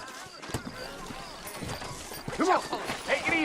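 Horse hooves clip-clop at a walking pace in a Red Dead Redemption town scene, moderately close, while someone talks over them and a horse gives a short snort.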